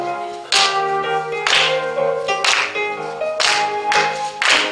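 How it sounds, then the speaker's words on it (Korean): A church congregation claps together in slow, steady, even strokes along with a hymn being sung, a roomful of hands ringing out clearly over the voices. "자, 박수 치며 찬양하겠습니다"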